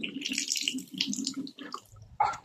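Water from a bathroom tap in a beach resort cabin, a close, uneven splashing and gurgling that stops and starts in short bursts.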